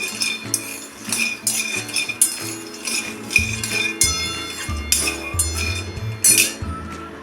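Peanuts are dry-roasted in a pan over a low gas flame, stirred so they clink and rattle against the metal in quick, irregular bursts, close and fairly loud throughout.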